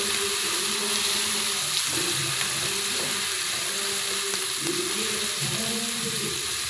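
Ginger garlic paste frying in a pan for a Telugu-style fish curry, a steady, close sizzle with soft bubbling and faint stirring, continuous throughout with no talking.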